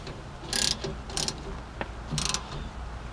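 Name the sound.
tightening down bolts on a Nissan Frontier emergency brake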